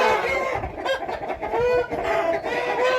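Roosters on a chicken farm, several birds clucking and crowing close by in overlapping, continuous calls of fairly even loudness.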